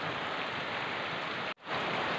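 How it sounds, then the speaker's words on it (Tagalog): Steady rain falling on a small home garden, a dense continuous hiss of drops with a brief dropout near the end before the downpour resumes. "umuulan na guys."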